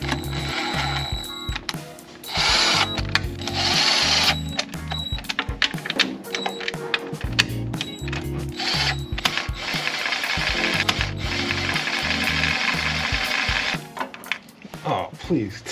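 Pneumatic impact wrench snugging transmission bolts on a 1995 BMW E36 automatic gearbox, giving repeated rattling hammer bursts in close, loud runs with short pauses between bolts, and a voice speaking now and then.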